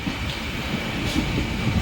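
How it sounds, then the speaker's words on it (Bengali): A passenger train on the line from Balurghat to Malda pulls away after a signal stop, its carriages rumbling steadily with a broad, even roar from on board and faint rattles as the wheels begin rolling. "ট্রেন চলতে শুরু করে দিল"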